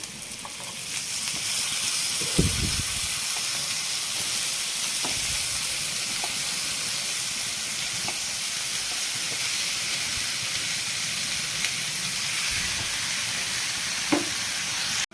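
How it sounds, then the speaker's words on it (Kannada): Drumstick leaves sizzle and fry in a pan of tempering, a continuous close hiss of hot oil broken by a few soft thumps and scrapes of stirring. "ಸ್ವಲ್ಪ ಫ್ರೈ ಆಗಲಿ ಸ್ವಲ್ಪ ಗೋಲ್ಡನ್ ಬ್ರೌನ್ ಕಲರ್ ಬರೋವರೆಗೂ ಫ್ರೈ ಮಾಡೋಣ"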